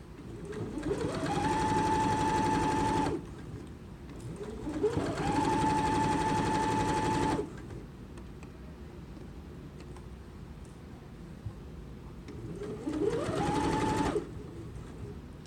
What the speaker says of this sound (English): And then I continue stitching.